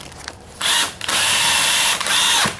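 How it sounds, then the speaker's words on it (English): A power drill drives a screw into a frame rail to bore its own pilot hole, two loud sustained whirring bursts close up, broken by a short pause. "You use the screw as a drill bit"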